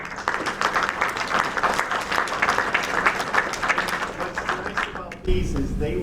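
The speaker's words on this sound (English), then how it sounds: "I think they deserve another round of applause." Audience at a museum event applauds steadily for several seconds, a dense wash of many hands clapping, before it suddenly gives way to a low rumble near the end.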